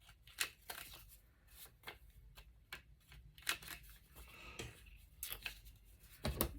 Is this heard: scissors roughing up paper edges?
yes